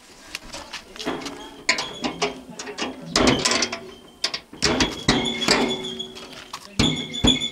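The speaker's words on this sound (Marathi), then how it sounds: "अशा प्रकारे आता हे पाणी सोडलं ह्या ठिकाणी आणि मशीन चालू झालेलं आहे." A vegetable-peeling drum machine runs with water, a steady mechanical churn, rattling, clanking and ratcheting as its contents tumble, loud and close with irregular knocks.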